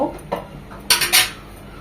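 A metal spoon clanks and scrapes against a pan while mixing a sour boal fish curry with tomato, giving a few sharp close clinks separated by short quiet gaps, with no talking.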